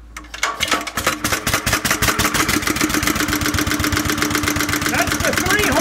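A 1938 International LB 3-5 hp stationary engine started by turning the flywheel, catching quickly and settling into a steady, loud, close chugging rhythm of regular firing pulses.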